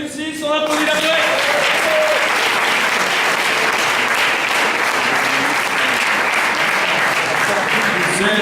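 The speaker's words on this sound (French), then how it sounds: "On applaudit la fête." Sustained audience applause at a slam poetry contest, loud and steady clapping from a crowd after scores are read, continuing throughout with a few voices mixed in.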